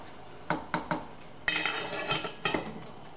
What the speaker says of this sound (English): we do have to stir it every once in a while.